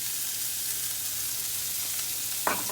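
Leek sizzling steadily in olive oil in a frying pan for a brazilian brie risotto, a constant bright hiss with a sharp clink or stir near the end.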